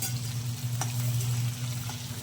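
Peanuts roasting in a pan with cumin and mustard seeds make a steady close sizzle, with a sharp stir or scrape of the spoon partway through and no one speaking.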